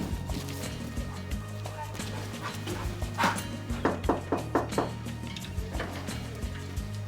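A dog barks and yips in short repeated bursts, growing more frequent toward the end, over a low background hum.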